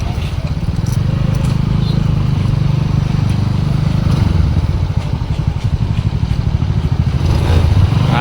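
Heavy truck engines rumble and clatter loudly and without pause on a dusty road, a close, continuous low drone of traffic rolling past.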